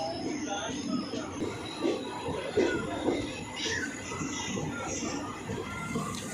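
A train pulls into Thane railway station with a low rolling rumble and faint wheel noise, heard under steady crowd chatter and voices on the platform.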